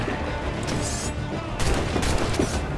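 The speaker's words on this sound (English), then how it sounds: "Fire what cannons you will, and land a few strikes if you must" Cannons fire in a video game sea battle, a dense run of loud booming shots and crackling bursts layered over a constant roar of background noise.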